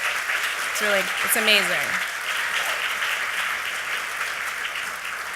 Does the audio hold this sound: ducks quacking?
no